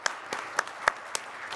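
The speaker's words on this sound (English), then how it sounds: "Let's give her another round of applause." Sparse, scattered claps at a town hall-style summit for the Manhattan Borough President, a few isolated sharp hand claps spaced out rather than full applause.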